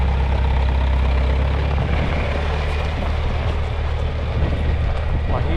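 Old green tractor engine running steadily while being driven, a loud, low, constant rumble with wind buffeting the microphone throughout.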